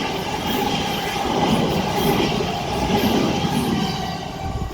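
A class 455 electric unit on the service to London Waterloo approaches at Raynes Park, a close rolling rumble with wheel clatter, loud and unbroken, with no talk over it.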